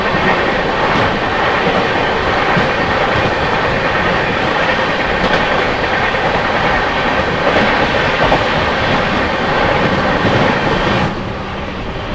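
The Goa Express, running from Hazrat Nizamuddin to Vasco da Gama, roars past close by with a dense, loud rumble and rhythmic wheel clatter, cutting off abruptly as the last coaches clear.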